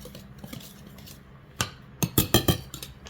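Metal whisk clinking against a bowl while mixing ingredients for apple pie bread, soft rattling at first, then several sharp, loud clinks and taps close by near the end.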